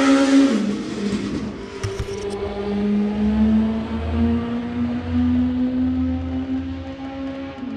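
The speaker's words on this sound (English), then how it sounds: "living right off the highway, where every backfiring piece of crap wants to give it hell" Cars on a nearby highway, a loud engine revving up then droning past with a lingering hum and rumble as traffic continues in the background, no voices.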